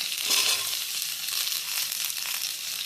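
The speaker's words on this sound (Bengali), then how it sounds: "এই সবজিগুলি দিয়ে আবারও ভালোভাবে নেড়ে চেড়ে নেওয়া হবে" Mixed vegetables (pumpkin, potato, pointed gourd, jackfruit seeds, taro, stalks and green chillies) fry in a pan and are stirred, giving a close, continuous sizzle with soft scraping and no talk.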